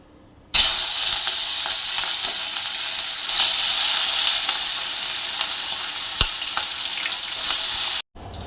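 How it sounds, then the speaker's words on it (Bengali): Hilsa fish coated in spice paste fries in a pan with a loud, steady sizzle that starts abruptly, holds evenly for several seconds with one sharp tap, then cuts off. "মাছটা আমার এক পাশটা ভাজা হয়ে গেছে, উল্টে দিলাম।"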